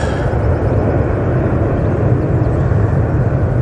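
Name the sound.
KLM Embraer E190 jet arriving from Amsterdam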